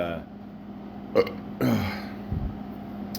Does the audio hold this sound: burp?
yes